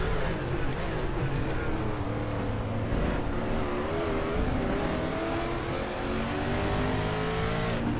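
A 1992 Mustang DTM race car in the RaceRoom racing game at the Nürburgring GP circuit, its engine roaring loud and continuous, the pitch climbing through the gears on a straightaway, with other cars nearby.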